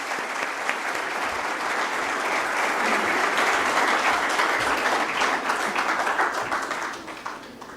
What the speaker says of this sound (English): Can we have a big round of applause for the true inspiration behind Miss Saina?